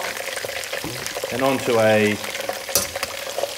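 Beef frying in a wok for crispy beef in Peking sauce, a soft sizzle under a person talking, with a clatter near the end.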